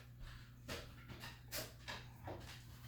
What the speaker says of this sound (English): You are gonna hear a dog run and bark here in a second.